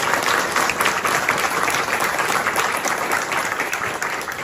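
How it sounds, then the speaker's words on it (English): A crowd at a talk claps in sustained, dense applause, steady and fairly close from start to finish, tapering slightly at the end. "a round of applause for the fantastic work that they have done"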